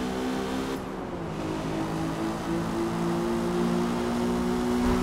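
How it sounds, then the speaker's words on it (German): A race car with a modified exhaust drones continuously in Forza Motorsport, its steady engine tone building slightly in loudness over a few seconds. "Ey, der Motor klingt ja mal komplett anders."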